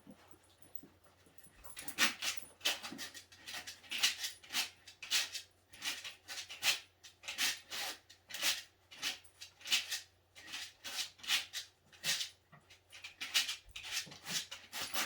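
A dog scratches its feet on a scratchboard, giving repeated raspy bursts in quick rhythmic sets, close and fairly quiet, with short pauses between strokes.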